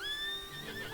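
A horse in the video game Red Dead Online neighs while rearing, a single close, loud whinny with a wavering high pitch that fills the clip alone.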